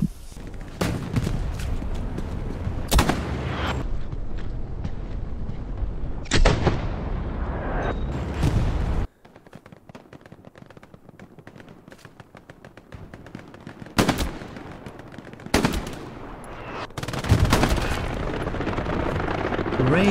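Shotgun blasts and gunfire in the World War II shooter Hell Let Loose: sharp, loud reports in irregular bursts with distant battlefield booms between them, and a quieter lull in the middle.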